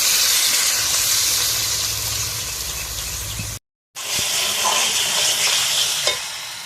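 Water poured onto spiced potatoes frying in a pan bursts into a loud, close sizzle and hissing steam that cuts out briefly partway through, then resumes as a strong, steady frying hiss with no one speaking.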